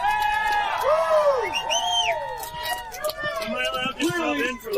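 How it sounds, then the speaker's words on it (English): Crowd at a local harvest festival sumo open, loud cheering, whoops and shouting voices overlapping in a lively close-up babble. "Let's hear you guys cheer for him"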